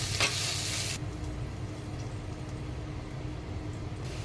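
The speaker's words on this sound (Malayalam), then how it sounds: "കുറച്ച് സാൾട്ട് ഇട്ടിട്ട് അങ്ങനെ ഇളക്കി വഴറ്റി കൊടുക്കുക" Chicken being sautéed with salt and stirred in a clay pot, a steady close sizzle with scraping stirring strokes, loud at first, then a softer continuous frying hiss.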